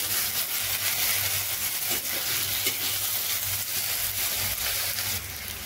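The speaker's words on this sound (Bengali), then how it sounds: "নুন দিয়ে আলুগুলোকে এইভাবে একটু ভেজে নেব।" Potatoes fry in a pan with salt sprinkled over them, giving a steady, dense sizzle that stays loud and close throughout, with faint stirring scrapes and no talking.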